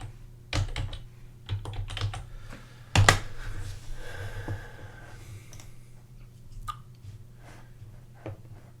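Keys on a computer keyboard typed in short irregular bursts of close, sharp clicks, with a steady low hum underneath.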